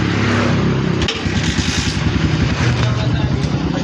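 A hard-starting Kawasaki Barako motorcycle is kick-started and its engine sputters into a loud, close, throbbing idle with uneven pulsing beats, while voices are heard nearby.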